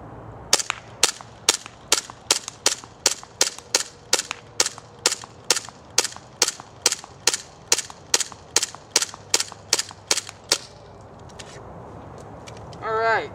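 A WE PX4 gas blowback airsoft pistol fires about two dozen sharp, snappy shots in a quick, even rhythm, close and loud, before the string stops and a brief faint whine follows.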